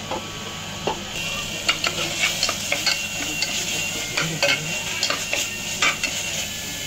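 Boiled vegetables are stirred into sizzling masala in a pot for Jain biryani, with a steady frying hiss under repeated scraping and clinking of the spoon against the metal, and no talk.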